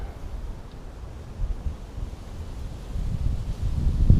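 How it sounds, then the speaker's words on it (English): Steady outdoor wind rushes and buffets the microphone, a low, rumbling roar that swells slightly toward the end, with no voices over it. "Hear that wind."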